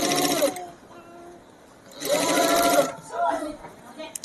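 A sewing machine stitches a kids' lehenga in short bursts of rapid whirring separated by pauses, close and clear, while someone talks over and between the runs.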